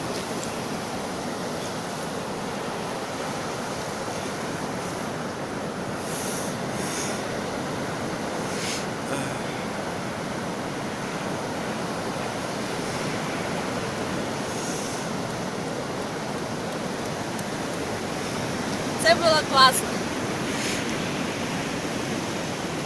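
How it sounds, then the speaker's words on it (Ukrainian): Steady broadband roar of rough, stormy Black Sea surf washing onto a beach at Zaliznyi Port, continuous and fairly loud, with a brief short remark spoken near the end. "А море штормить, такі хвилі, хвилі."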